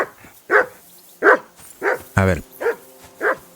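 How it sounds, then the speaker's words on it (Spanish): A dog named Cal barks repeatedly in the medieval video game Kingdom Come Deliverance 2, sharp close barks spaced about every half second, with a brief whine in the middle and someone speaking briefly at the start. "Imagino que oís a ese condenado Cal ladrando sin cesar, ¿no?"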